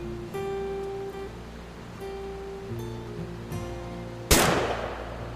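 A single sharp gunshot rings out in What Remains of Edith Finch, loud and close, following a stretch of soft sustained game music and ambience, with a decaying tail after the blast.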